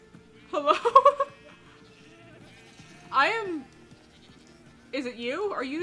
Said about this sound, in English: There's a screaming goat somewhere.